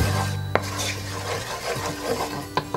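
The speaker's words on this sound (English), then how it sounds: "Stir that in." A spoon scrapes and stirs vanilla into a thick chocolate peanut butter no-bake cookie mixture, giving soft rubbing strokes with a couple of sharper clicks against the pot or bowl, close and fairly quiet with no talking.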